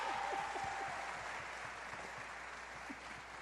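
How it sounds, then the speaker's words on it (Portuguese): Thin, sparse applause from a small audience at a theology workshop, a steady low patter of scattered claps that fades slightly over a few seconds. "Tá fraco esse aplauso."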